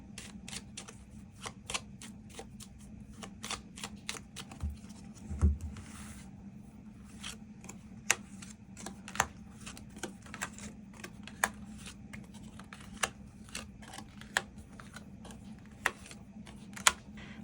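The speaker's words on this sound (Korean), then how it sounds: "그럼 이번 분들 추가 카드로 일별로 월요일부터 일요일까지 어떤 하루하루를 보내게 될지 추가 카드 뽑아보도록 하겠습니다." Tarot cards being shuffled and drawn on a table, a series of sharp, separate close clicks and snaps at irregular intervals over a faint steady hum, with no talk.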